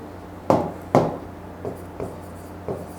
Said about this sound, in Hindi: आपको प्रॉपर मैं लिख के देता हूं